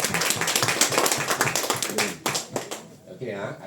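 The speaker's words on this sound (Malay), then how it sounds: "1 tepukan." A single hand clap in a lively group session, sharp against a busy background of overlapping voices and chatter.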